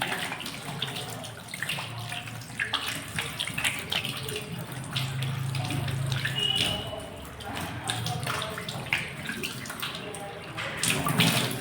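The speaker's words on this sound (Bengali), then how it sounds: "ভালো করে হ্যান্ড ওয়াশে হাত পা একদম, যাতে জীবাণু না থাকে" Running tap water pours steadily while hands and feet are washed with hand wash, a continuous close splashing stream that shifts slightly in strength as the limbs move under it.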